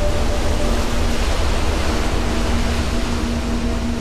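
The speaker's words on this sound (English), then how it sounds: "These tempests drive waves across vast distances toward Hawaii." Pacific Ocean surf off Hawaii makes a loud, unbroken roar of breaking waves that fills the whole stretch without clear pauses between swells.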